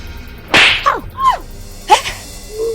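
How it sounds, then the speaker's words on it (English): A hard slap to the face lands during a heated family confrontation: a sharp, loud smack followed by a couple of quicker swishing hits, close up with no talking. "I slapped you."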